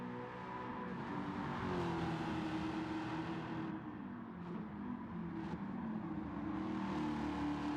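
A Corvette race car engine in Gran Turismo 7 drones steadily at high revs, with subtle rises and dips as it runs a circuit, a continuous mechanical hum without talk.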